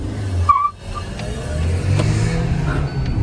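A Hyundai Venue and a Maruti Brezza launch side by side in a drag race, with a brief tire chirp and then steady engines pulling away, loud and close, without talk.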